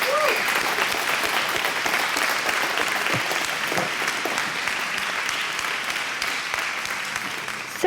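Audience applause welcoming a speaker at a live event, steady dense clapping from a crowd that holds strong for the full length with no talk over it.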